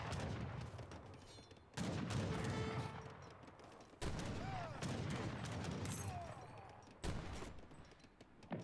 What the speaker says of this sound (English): Janissary shooting on the back